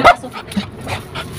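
A dog gives a few short yips and whimpering barks close by, brief and mid-loud, with people talking around it at a food stall.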